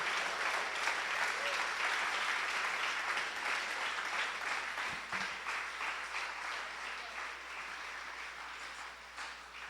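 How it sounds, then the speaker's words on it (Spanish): A church congregation applauding during a Spanish-language service led by a pastor, a broad continuous roar of clapping with faint voices mixed in, slowly fading across the stretch. "Dale ese fuerte aplauso al Señor"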